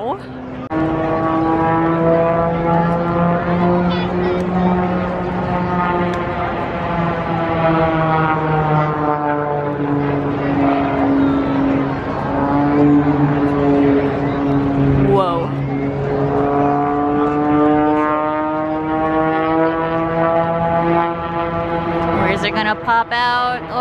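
An airplane taxis down the runway at an air show, a loud, steady droning engine hum with a gradually shifting pitch that runs throughout, with people talking over it.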